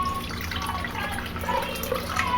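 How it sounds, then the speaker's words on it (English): Half a cup of cold water poured into a mixing bowl of chiffon cake batter with egg yolks, a steady close liquid trickle and splash running throughout, with no talking. "Then we put in a 1/2 cup of cold water."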